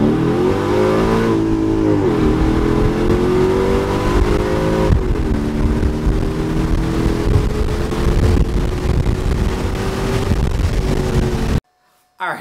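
A Mercedes CLK55 AMG makes a hard acceleration pull, the engine roaring loudly and climbing in pitch with clear dips at gear shifts, then cutting off abruptly at the end.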